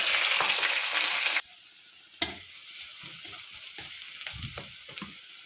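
Chopped onion and curry leaves hit hot oil in a pan for semolina upma, starting with a loud, dense sizzle that drops sharply, then settles into a quieter steady frying with occasional stirring clatters.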